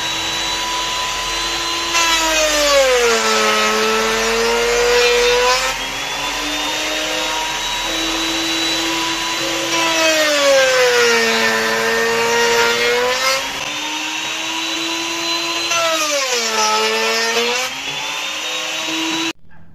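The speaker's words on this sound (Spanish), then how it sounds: "voy a empezar a pasar las piezas y allá en la sierra para hacer las espigas" A power saw cuts wooden pieces into tenons for a mirror frame, a loud, close motor whine that sags and recovers in pitch over three separate cuts before winding down.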